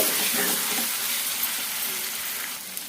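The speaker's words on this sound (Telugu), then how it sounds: "ఈ చికెన్ కూడా రెండు నుంచి మూడు నిమిషాల పాటు మీడియం ఫ్లేమ్లో ఫ్రై చేసుకోవాలి" Chicken fries in a pan on a medium flame and is stirred, producing a loud, steady, close sizzle throughout with no talking.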